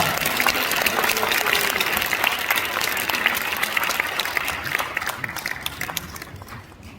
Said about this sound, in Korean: 우리 모두가 박수로 격려하겠습니다